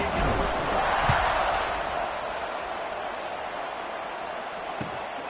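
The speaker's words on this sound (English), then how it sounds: "this crowd is buzzing after that last score" Football stadium crowd buzzing after a score late in a close game, a broad, loud rumble of voices that swells early then eases into a steady murmur, with a couple of sharp thumps.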